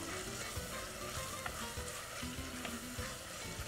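Curry leaves drop into onions already sizzling in a pan with chili and coriander powder, giving a steady, dense frying crackle with scattered sharper pops and faint stirring scrapes throughout.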